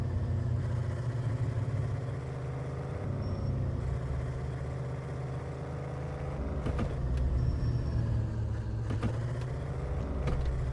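Steady engine drone of a vehicle being driven in the game Cargo Simulator, a continuous low rumble that holds fairly even throughout with a few brief clunks, no talking.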